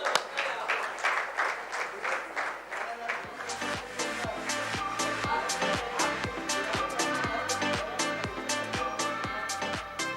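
Audience at a bravery awards ceremony at ITC Grand Chola, Chennai, applauding, the crowd's clapping giving way to a strong rhythmic beat of claps, with faint voices and music underneath.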